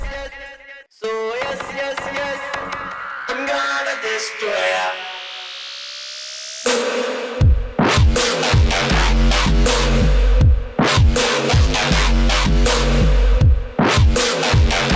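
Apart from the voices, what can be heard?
dubstep drop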